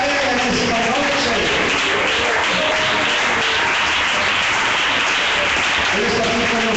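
Congregation applauding during an evening church service, dense sustained clapping mixed with voices and some musical tones throughout.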